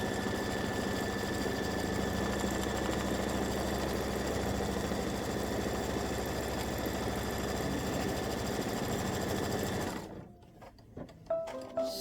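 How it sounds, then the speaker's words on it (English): An embroidery machine stitches the blue tack-down color stop of a Halloween cowboy ghost appliqué patch, a steady, fast mechanical chatter running loud and close for about ten seconds before it stops and a few faint handling clicks follow. "this is going to stitch color stop number 2, which is the tack down"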